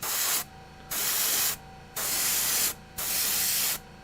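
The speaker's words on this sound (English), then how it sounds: "you should always be all the way open spraying primer" Three long hissing bursts of primer from a spray can, each about a second, separated by short pauses, close and loud.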